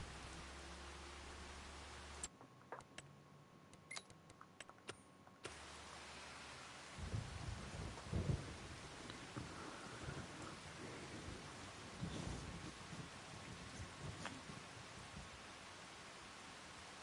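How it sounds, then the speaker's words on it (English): Steady rain pours down with rumbling thunder in Farming Simulator 25, a dense continuous hiss with deeper rolls building in the latter half, heard alone without talk. "Let me look at the rain real quick."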